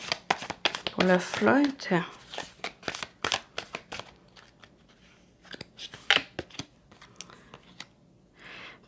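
Tarot cards being handled as one more card is added, with crisp shuffling and slapping card sounds at close range, broken up by someone speaking French between the bursts.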